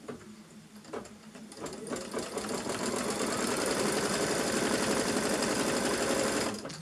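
Sewing machine stitching down a fabric piece, a fast steady mechanical whirr that builds after a few short starts and runs continuously until it stops abruptly near the end, close and loud with no talk.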